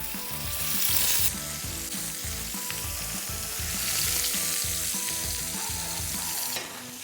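Loud, steady sizzling of monkfish fillet frying in a hot pan, a continuous crackling hiss with small pops, close by and with no voices.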